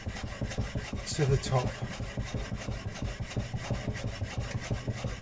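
A blade bevel rasps back and forth on a waterstone at a held 45-degree angle, in steady rhythmic rubbing strokes close by, with a brief spoken phrase partway through.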